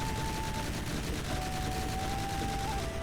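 A ship's guns are test fired in a video game: a steady stream of rapid, evenly spaced shots at moderate loudness, with a thin whining tone running underneath.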